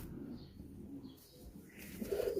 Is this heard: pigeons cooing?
yes